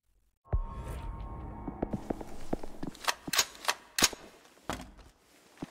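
Rifle gunfire in the zombie shooter World War Z: a series of sharp, irregular cracking shots, some closely spaced and a few louder bursts, over a quieter mechanical background, ending in faint quiet.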